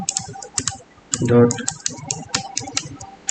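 Fast, clicky typing on a computer keyboard as a website name is entered, a quick irregular run of keystrokes with a brief louder rustle midway, close and clear.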